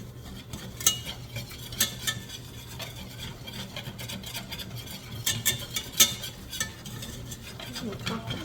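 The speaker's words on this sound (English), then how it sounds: "Just whisk it in." Flour whisked into a pan to make gravy for chicken fried elk steak, a steady run of close, brisk scraping strokes with metallic clinks of the whisk against the pan and a faint sizzle underneath.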